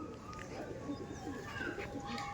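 A male pigeon from a loft coos softly in short repeated throaty notes, faint and somewhat distant, with other birds and a voice faintly in the background.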